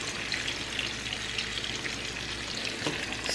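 Kidney beans and corn stirred into a simmering pot of chicken tortilla soup, a steady close bubbling sizzle with soft scraping of the spoon running throughout, no voices.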